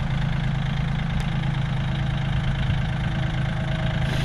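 A tractor engine idles with a steady, low rumbling throb that stays even and close throughout, with no voices over it.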